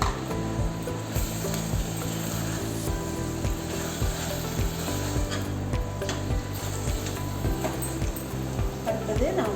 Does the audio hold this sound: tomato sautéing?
yes